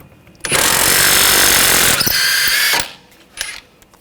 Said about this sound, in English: using a 22mm socket, take this nut off